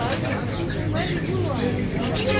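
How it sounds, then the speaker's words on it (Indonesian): Pleci Pacitan white-eyes and other caged birds in a bird shop give a dense, busy chatter of quick high chirps and trills under a constant noisy room background. "Ready di depan kita ini burung Pleci Pacitan ya."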